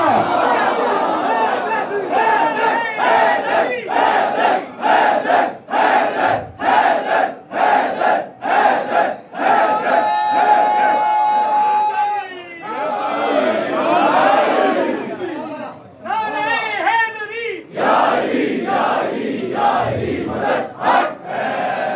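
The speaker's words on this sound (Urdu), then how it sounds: "اتنی بلند صلوات بھی تو ملی ہے اہل بیت کی ذات پر۔" A large crowd at a Muharram gathering in an imambargah loudly recites salawat in unison, in repeated rhythmic bursts, with a lead voice calling out between the loud collective responses.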